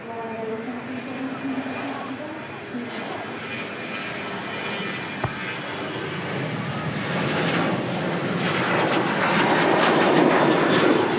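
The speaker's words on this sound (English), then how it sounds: "Next departure's on the roll, Ryanair UK 73." A Ryanair jet on its takeoff roll at Manchester Airport builds into a loud, rising engine roar that grows stronger toward the end, with voices talking beneath it.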